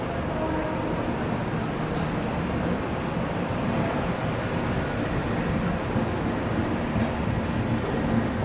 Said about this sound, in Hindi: अपनी दुरंतो एक्सप्रेस निकल रही है मुंबई सेंट्रल से